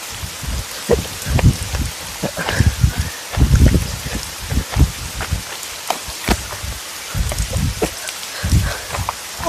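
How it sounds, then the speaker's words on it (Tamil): Heavy rain falls suddenly outdoors, a dense irregular patter of drops and splashes hitting surfaces close by, loud and continuous without any voices. "ஐயோ என்ன இப்படி திடீர்னு பயங்கரமா மழை பெய்யுது."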